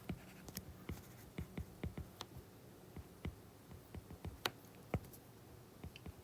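Faint pen strokes on paper, irregular scratches and soft taps spaced unevenly, close and quiet with no talking.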